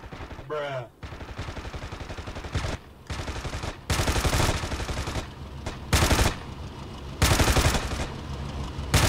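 Rapid machine gun bursts from the JF-17 in the DCS World flight combat game, loud repeated volleys of a second or so separated by short gaps, over steady cockpit engine noise.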